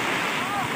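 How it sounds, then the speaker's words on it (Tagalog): Strong typhoon wind during Typhoon Ulysses roars steadily across the whole moment as a loud, continuous rushing gust with heavy buffeting on the microphone. "Ang lakas na po ng hangin."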